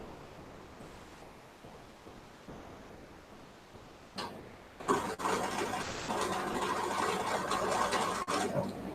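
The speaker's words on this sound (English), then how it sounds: "now we're going to sew all around there" A dual-feed sewing machine stitches around a fabric memory bear; after a quiet stretch the motor starts and runs as a steady, close whirring hum to the end.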